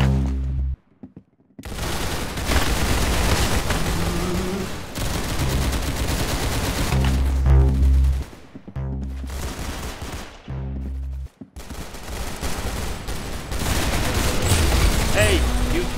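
Gunfire in the video game Arsenal: loud, sustained bursts of rapid automatic shots with short gaps between volleys, filling most of the stretch.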